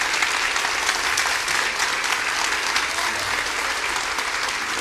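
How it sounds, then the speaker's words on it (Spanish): A large church audience rises and applauds to welcome a guest speaker, a dense, steady roar of clapping that holds evenly throughout. "si se puede poner en pie y recibir con un fuerte aplauso a Agustín Laje"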